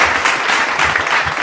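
A seated audience claps steadily and densely after a comic stage skit about a mother-in-law and daughter-in-law quarrel, a short unbroken burst of applause with no voices.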